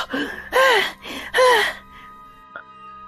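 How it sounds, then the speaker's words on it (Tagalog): Two loud, breathy gasping breaths after running in quick succession, strained and close, followed by fainter breathing and a brief small knock. "Hingal na hingal ka."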